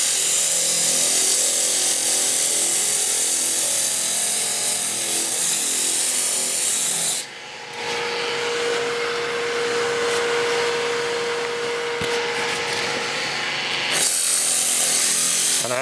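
Wood turning on a lathe being sanded with 150 grit sandpaper, a continuous hissing, rubbing whir that drops out for a moment partway through, then returns close and steady, with no talking.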